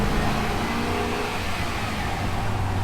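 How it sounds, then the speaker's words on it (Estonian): A custom Ram 1500 pickup truck engine revs steadily in neutral while parked, a continuous close rumble with slight rises in pitch and no voices. "peab hakkama siin neutraali peal gaasi vajutama koha peal."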